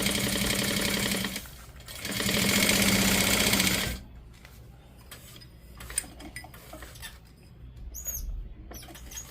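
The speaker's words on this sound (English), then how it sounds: "I am going to sew across the gusset seam, so I will pivot." Sewing machine stitching across a gusset seam, two loud sustained bursts of running motor separated by a short pause, followed by quieter clicks and handling noises as the fabric is pivoted.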